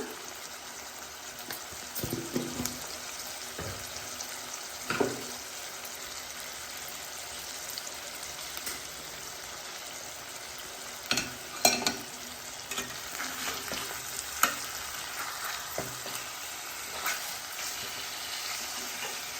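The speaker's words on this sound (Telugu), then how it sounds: "ఒక 2 నిమిషాలు నూనెలో మగ్గనివ్వాలండి చేప ముక్కల్ని" Fish pieces coated with turmeric fry in oil for a fish curry, a soft continuous sizzle heard up close, with scattered stirring clinks and scrapes and no speech.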